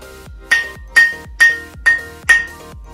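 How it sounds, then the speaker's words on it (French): A glass bottle clinked five times at an even, unhurried rhythm, each strike giving a bright ringing ping that decays before the next; close, clear and alone. "Une bouteille en verre?"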